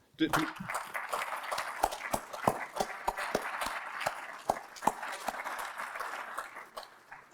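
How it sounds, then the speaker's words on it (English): Scattered claps from a modest audience at the EuMIC 2021 microwave conference award ceremony greet an award-winning paper, with distinct individual hand strikes sounding in an uneven patter that thins toward the end. "So let's have a round of applause for this one."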